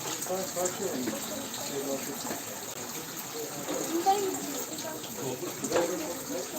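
Cold spring water runs from a four-spout fountain in Alacahırka, Bursa, a steady close splashing gush with faint voices in the background.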